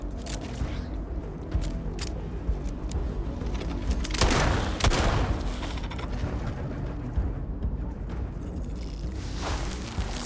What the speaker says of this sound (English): I think these have got explosive rounds in.